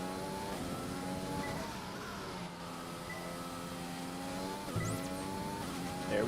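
A Formula 1 race car engine in the video game F1 2020, a steady high-pitched whine with strong harmonics that drops in pitch as it downshifts, then climbs again, continuous and close with a brief tyre scrub near the end.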